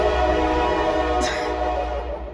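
A train passes a station with a low, continuous rumble of wheels and engine while a loud horn blast sounds near the middle, then fades as it moves off; no talking.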